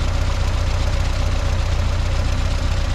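A 1977 Volkswagen Beetle engine idles steadily, close and loud, with an even low rumble and quick mechanical pulsing that continues without a break and no voices.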